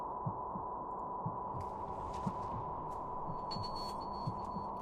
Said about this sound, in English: That's our own heartbeat right now.